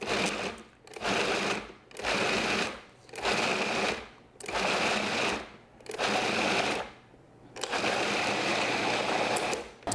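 Food processor pulsing a party dip with feta, a loud motor whirring in about five repeated bursts separated by short pauses, then running continuously at the end, with no talking.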